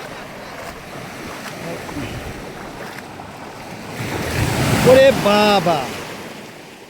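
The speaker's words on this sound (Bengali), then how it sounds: "বড় ঢেউ" Big waves break on a beach at Bhola on the Bay of Bengal during high tide. A broad, steady wash of surf and wind swells into a louder surge near the end, and a voice briefly exclaims.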